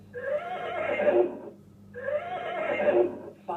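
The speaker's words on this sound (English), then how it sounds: "Brown horse." Two loud, shaky whinnies from a brown horse, each lasting over a second and separated by a short pause, come from a children's animal-sounds game and are heard alone without speech.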